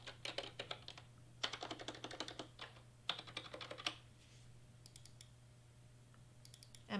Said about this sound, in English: I'm going to type Abby.